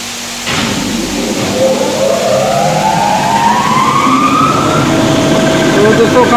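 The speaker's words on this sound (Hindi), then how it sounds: "कंप्रेसर स्टार्ट हो चुका है" After its CCSV oil pipe is replaced, a compressor starts with a sudden jump into a loud, steady run, and a rising whine climbs as the motor spins up and settles under load.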